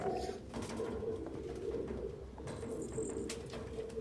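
Pigeons coo softly in low repeated murmurs, fairly faint against a quiet background, with a brief higher chirp near the end.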